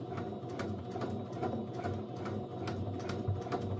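Sewing machine basting the lining of a zipper coin pouch with a narrow seam allowance, running at a steady pace with regular rapid clicks and a low mechanical whir, close and moderately loud.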